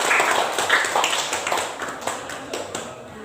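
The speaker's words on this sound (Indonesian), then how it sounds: "Kita berikan tepuk tangan" Classroom applause for a student group returning to their seats, a short burst of many hands clapping close by that fades a little toward the end.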